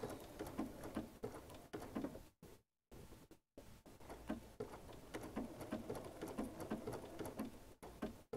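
Quiet, steady rattling patter of a sewing machine stitching a quilt, continuous apart from one brief pause, heard alone at a modest distance.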